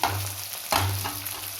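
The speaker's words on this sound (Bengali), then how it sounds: "এই যে ভাজা হয়েছে, ডিম রয়েছে, এই যে কাঁচা মাছের একটা ডিম রয়েছে, একসাথে ভাজা হচ্ছে" Tangra fish with their roe frying in a pan, a steady close sizzle with a sharp burst of spitting as pieces are stirred, no voices.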